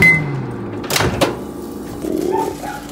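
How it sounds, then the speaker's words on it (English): A small guard dog barks a couple of times in the background of a home kitchen, brief muffled yaps among microwave beeps and a door or cupboard clunk. "it's just Mochi barking in the background"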